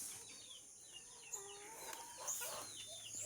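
Chickens cluck and chirp softly at a distance in a quiet farmyard, several short calls scattered over a faint background with no talking.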